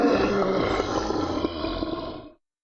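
Game creature death cue made from two pitched-down samples mixed together: a dense, growling roar that holds steady for just over two seconds, then cuts off abruptly into silence, with no talking.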